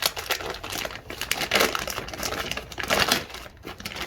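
Crinkly plastic and cardboard packaging from a soldering iron kit rustles and crackles in irregular close bursts as it is pulled open, with no voices.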